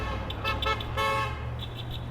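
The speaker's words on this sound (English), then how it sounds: "Those are my honks." Several car horns toot at a picket line in short bursts, a couple of quick beeps followed by a longer sustained honk and a final brief toot, heard over low traffic rumble.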